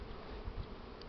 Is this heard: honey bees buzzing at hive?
yes